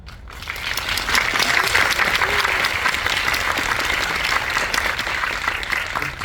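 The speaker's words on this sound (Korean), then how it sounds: "제가 말씀드리기 전에 바로 박수가 나오는 거 보니까 인정하시는 거죠." A film screening audience at a guest-visit talk breaks into loud, dense applause that rises quickly and continues steadily throughout, filling the hall with close, sustained clapping.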